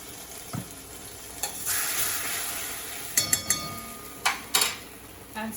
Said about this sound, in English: So I'm going to take all these veggies and stir fry them.